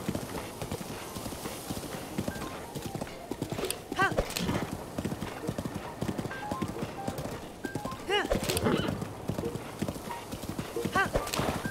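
A horse gallops with steady clip-clop hoofbeats and whinnies a few times in Zelda: Breath of the Wild, the hooves running throughout and the neighs standing out above them.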